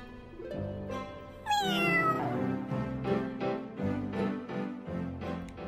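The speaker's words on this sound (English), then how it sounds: "Meow." A tabby cat meows in a close, loud series of calls: one long, rising wail, then several shorter repeated meows in a steady rhythm.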